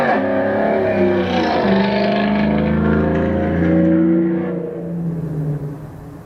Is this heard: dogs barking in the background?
no